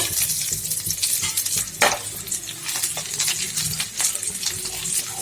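Karimeen fish wrapped in banana leaf frying on a slow fire, a steady close sizzle with scraping and small clinks as the parcel is handled, plus a sharp clatter partway through.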